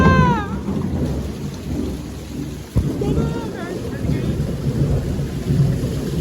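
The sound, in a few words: thunderstorm with rain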